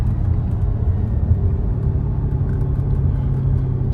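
An Audi RS4 on the move gives off a deep, steady engine rumble and road drone inside the cabin, low and constant for several seconds.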